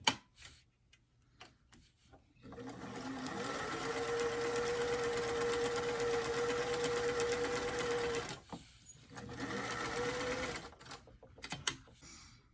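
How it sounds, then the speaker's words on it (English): A sewing machine runs steadily for several seconds, top stitching the casing on a doll blouse cuff, with a brief pause before a second shorter run; close and alone, no talk. "I'm just going to add the top stitching for the casing"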